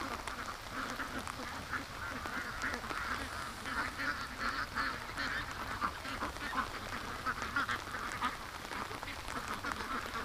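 Ducks quack in a loose, overlapping flock over a steady wash of rain, the calls close and persistent throughout with no talking.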